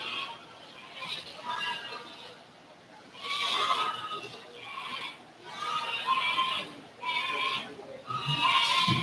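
Goats at a county goat show bleat loudly and close by in a run of repeated calls, separated by short pauses, over a busy show-ring background.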